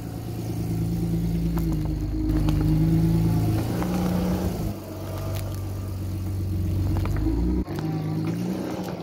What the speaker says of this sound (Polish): Telefony już czekają na przejechanie samochodem.